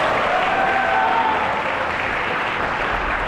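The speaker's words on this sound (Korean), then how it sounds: "우리 김대원 학생에게 뜨거운 박수 한번 부탁드리겠습니다" Warm, sustained applause from a large school audience, a steady dense wash of many hands clapping at once, loud and close with no individual claps standing out.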